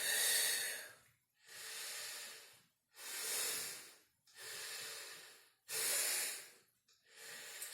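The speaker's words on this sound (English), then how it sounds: "So it's quite an energetic exhale through the nose." Vigorous yoga exhales are forced through the nose in a gentle postnatal class, five or six sharp, hissing bursts spaced about a second and a half apart, close and alone.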